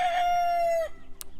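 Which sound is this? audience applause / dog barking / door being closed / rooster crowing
rooster crowing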